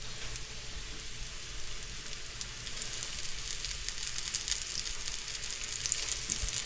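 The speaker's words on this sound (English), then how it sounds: "That perfect sizzle." Steady, crackling sizzle of alligator meat frying in hot oil in a pan, close and constant, with occasional sharper pops.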